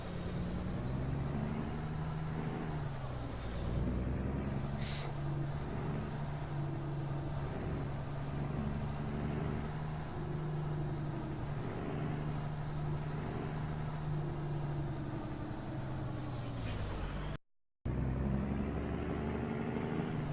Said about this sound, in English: Truck seems to be pulling the trailer just fine.